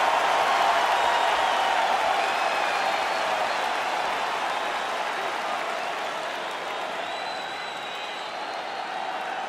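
An arena crowd in the UFC 5 video game applauds and cheers at a lightweight championship fight night. The sustained roar of clapping and whoops stays loud throughout and eases slightly toward the end, and a voice may speak over it.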